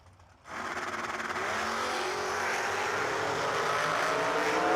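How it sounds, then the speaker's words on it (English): A big block Chevrolet supercharged drag racing car on the far side of a drag strip fires up and roars steadily and loudly, its engine noise building and holding for several seconds. "Big block Chevrolet blower car. Far side, making a lot of noise."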